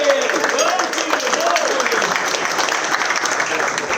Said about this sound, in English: Give him a round of applause to Julian Wynn!